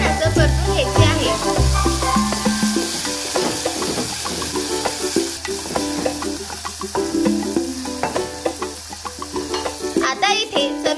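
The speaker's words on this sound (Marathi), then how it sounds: "आता ह्याच्यामध्ये शिजवलेले शेंगदाणे घालावे। आता याला छान असं परतून घ्यायचे आहे।" Boiled peanuts are stir-fried in a pan over a medium gas flame, with a continuous sizzle and repeated scraping and stirring close by, and soft background music running underneath.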